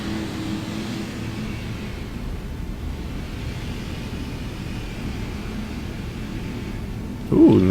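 Steady aircraft engine drone from the PacSim flight simulator at Salt Lake City, a continuous low rumble with faint hiss, holding constant before a brief louder bump at the very end.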